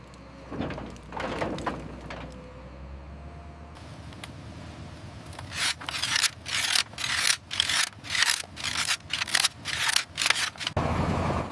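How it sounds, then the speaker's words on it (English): Cassava roots are pushed along a moving floor toward a conveyor in a factory, heard as rough scraping and rubbing that turns into a rapid series of repeated loud grinding strokes before stopping. "The moving floor pushes them to the conveyor."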